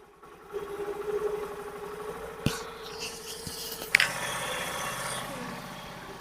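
A Honda Activa scooter engine idles with a steady buzzing drone while its idle speed is adjusted, and a few sharp clicks and knocks sound close by.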